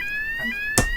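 An alarm rings out as steady high electronic tones, with a brief sharp knock or thump near the end and no one speaking.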